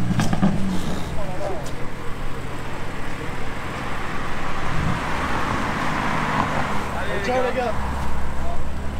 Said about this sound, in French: la M4 de Tech Auto qui s'en va